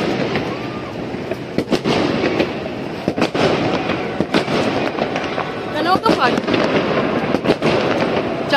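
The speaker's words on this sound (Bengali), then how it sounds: "রাত্রি 12টার সময়তে বাড়ির ব্যালকনি থেকেই দেখে নিলাম ফায়ার ওয়ার্কস।" New Year fireworks at midnight in England, heard from a home balcony: a dense, continuous roar of distant bursts and crackles with sharper nearer bangs popping through, and voices talking beneath.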